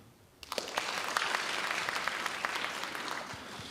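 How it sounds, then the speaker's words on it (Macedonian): Audience applause at a stand-up comedy show, bursting in after a brief quiet moment and holding as a steady, full crowd clapping with scattered sharper claps and faint voices underneath. "да плеснете сите аплауз што имат милениче"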